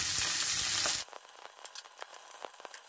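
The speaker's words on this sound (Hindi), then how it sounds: "जब ऑयल गर्म हो जाए तो कीमा भरी ज़बरदस्त मिर्चें फ्राई करना शुरू" Keema-stuffed green chillies hit hot mustard oil in a loud burst of sizzling that drops away after about a second, leaving faint crackles and pops frying on quietly.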